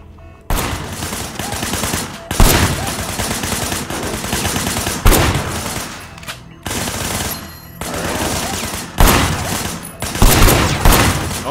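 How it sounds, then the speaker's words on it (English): Sustained gunfire in the Sleeping Dogs video game, loud close bursts of rapid automatic shots broken by brief pauses, repeating across the stretch with little else heard. "I want you to put some bullets in a few things."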